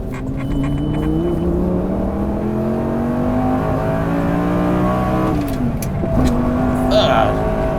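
A Lamborghini Gallardo accelerating hard through the gears, its engine note climbing steadily, dropping briefly at a shift near the end and rising again, loud and close throughout with a voice briefly audible over it.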